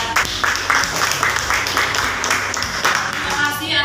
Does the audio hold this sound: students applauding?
yes